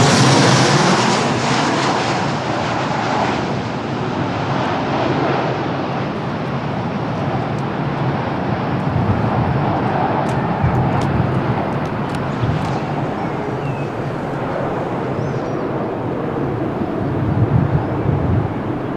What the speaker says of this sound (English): Boeing 737-800 landing from Amsterdam